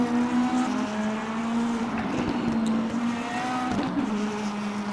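A DTM race car in a virtual racing game at the Nürburgring drones at a steady engine pitch, with tire squeal and shifting revs as it is pushed wide and drifted through a corner, loud and close.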